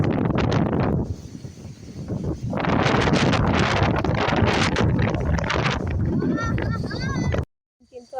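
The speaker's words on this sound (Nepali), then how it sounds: "हावा चाहिँ क्या मजाले लाग्छ हौ।" Wind blows through an orange grove, buffeting the microphone in strong, roaring gusts that ease briefly and then build again, with a short faint voice-like sound near the end before it cuts off.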